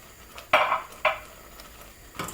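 A spoon stirs ground nutmeg and mixed herbs into a vegetarian savoury pancake bake mixture, giving two short, close scraping clinks against the bowl half a second apart, with near silence around them.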